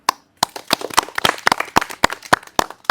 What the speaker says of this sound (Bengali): এনার জন্য আমরা সবাই মিলে একটু হাততালি